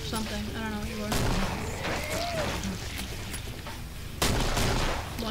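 Gunfire from the zombie-shooting video game Killing Floor, a few sharp bursts of shots under a talking player and background game noise.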